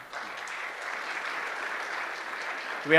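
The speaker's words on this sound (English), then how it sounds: "So that's an applause" An audience at a company sales rally breaks into steady applause, a dense wash of clapping holding evenly for several seconds before a brief louder swell at the end.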